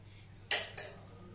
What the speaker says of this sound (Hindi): गैस पे हम एक कढ़ाई रखेंगे